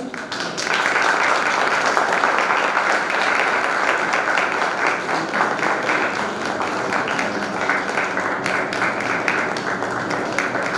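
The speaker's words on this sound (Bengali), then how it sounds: "সবাই একটু করতালি দেবেন" An audience at a poetry book launch claps together, a dense sustained burst of applause that holds steady throughout.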